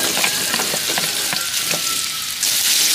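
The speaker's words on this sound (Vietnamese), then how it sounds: "Xào vừa chín tới được rồi, đừng chín kỹ quá tại chỉ có nó teo á" Ingredients for bánh canh noodle soup are stir-fried in a hot pan, giving a loud, continuous sizzle broken by clattering stirring strokes, with no voices.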